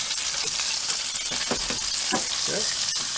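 Bacon sizzles and crackles in a frying pan, a dense continuous hiss with scattered sharp pops and the occasional scrape of the strips being turned, close and fairly loud.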